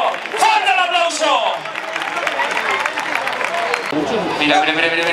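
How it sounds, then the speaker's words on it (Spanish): A crowd applauds and cheers at a recortes bullfighting contest in Peralejos de Abajo, Spain, a steady roar of clapping with an excited announcer speaking over it at the start and again near the end. "¡Qué bonito, qué torero! ¡Fuerte el aplauso!"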